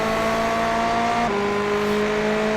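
GTE race cars, a yellow Ferrari and a Porsche, lapping Sebring in iRacing: a loud, steady high-revving engine drone with a sharp pitch drop midway as a gear change or passing car shifts the tone.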